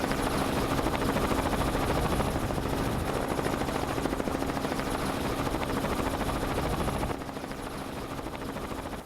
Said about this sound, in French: on va envoyer l'hélicoptère